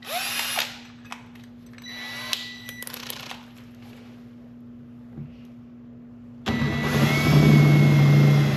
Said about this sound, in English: you're actually going to drill this out to a 1/2 inch